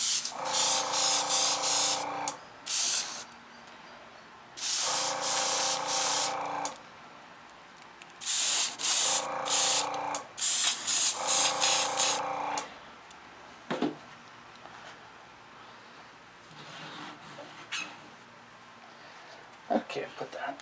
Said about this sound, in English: Airbrush starting to spitter.